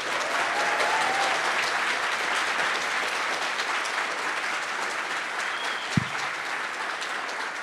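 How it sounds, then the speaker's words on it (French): Sustained audience applause greets a film director arriving to present his first feature film at a history talk event, a steady dense clapping that fills the room, with a single dull thump near the end. "sous un tonnerre d'applaudissements, je vous demande d'accueillir celui qui est le réalisateur de son premier long métrage"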